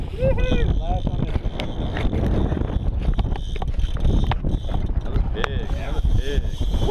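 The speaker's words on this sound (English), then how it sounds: "The wind is blowing" Gusty wind buffets the microphone throughout, mixed with water and boat noise on a striped bass fishing trip, while people talk and shout in the background.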